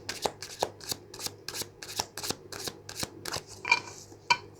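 A deck of tarot cards is shuffled up close, with a rapid series of crisp riffling bursts in a regular rhythm, followed by a couple of sharper snaps and taps as the cards settle.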